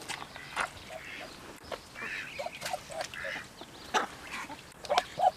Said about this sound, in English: And this is the new duck